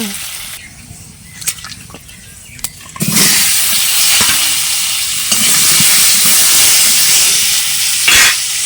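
Banana pieces fry in a hot pan: a few quiet clicks and scrapes, then a loud, steady sizzle and hiss rises suddenly and continues with occasional stirring.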